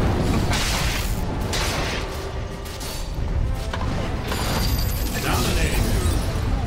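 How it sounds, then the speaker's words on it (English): A Dire middle tower crumbling under attack in Dota 2, with dense booming impacts, crashing debris and clattering battle noise layered continuously over several seconds, loud and busy throughout. "Dire's middle tower is in trouble from the way it's being destroyed as I speak."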